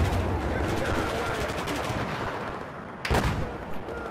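Rapid gunfire from the video game Battlefield 4, a dense, loud sustained burst with a sharp extra shot near the end, heavy and continuous throughout.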